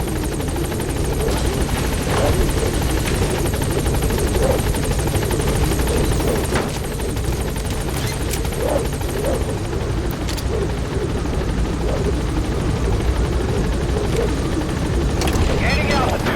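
Military helicopter rotor and turbine from Metal Gear Solid V lifting off and gaining altitude, a loud steady thudding drone held throughout with faint radio chatter layered beneath.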